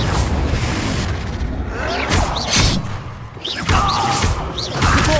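A Confringo spell blasts in the video game Hogwarts Legacy, with booming, crashing impacts and whooshes repeating over a busy combat soundscape.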